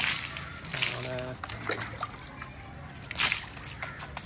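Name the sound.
water splashing while bathing in collected rainwater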